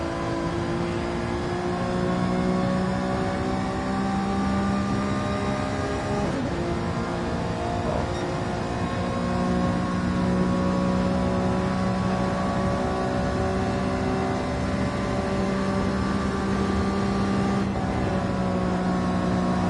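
A race car engine in Gran Turismo 7 drones and revs continuously at high pitch throughout, with shifting tone as the throttle is held wide open and brief gear-change dips, heard alone without talk.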